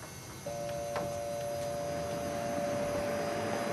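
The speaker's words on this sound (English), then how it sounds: "Now you can hear that buzz." A steady electrical buzz comes from a modified sine wave inverter powering a motor, with a sharp tonal whine that switches on abruptly and holds constant.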